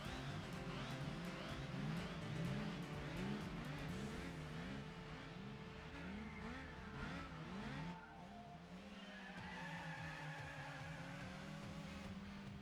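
A supercharged Mazda MX-5 in Gran Turismo 4 drives laps of Suzuka East, its engine rising and falling through repeated revs and gear changes, with occasional tyre squeal; game sounds continue steadily at a moderate level.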